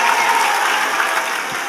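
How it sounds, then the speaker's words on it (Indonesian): An audience at a lively Islamic religious lecture claps steadily for about two seconds, a dense, even wash of many hands with no voices over it. "tepuk tangan dulu"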